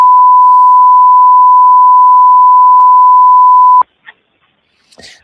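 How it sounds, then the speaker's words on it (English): Censor beep over a 911 call recording, one long steady tone held for almost four seconds, with a faint click partway, then brief soft noises after it stops. "The police department beeps it or includes the beeps"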